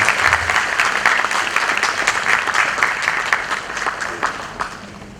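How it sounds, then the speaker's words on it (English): Ceremony audience at a foundation day event applauding, a dense burst of clapping from a crowd that holds steady then gradually thins and fades over a few seconds. "Please give them a big round of applause."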